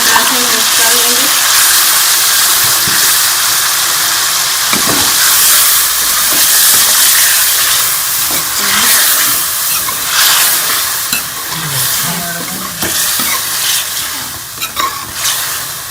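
Chicken frying in a pan with tomato paste and spices, giving a loud, constant sizzle and hiss close up, with occasional scraping as the mixture is stirred.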